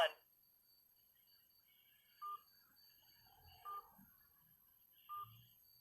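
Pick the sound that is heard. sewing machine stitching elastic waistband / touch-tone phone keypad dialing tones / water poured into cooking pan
touch-tone phone keypad dialing tones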